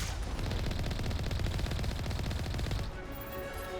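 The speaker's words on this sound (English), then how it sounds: "It's unfortunately puts me in a situation of dealing with their machine gun fire" Enemy machine gun fire in Mass Effect, a long rapid rattling burst of automatic shots, loud and steady for nearly three seconds before cutting off into quieter game ambience.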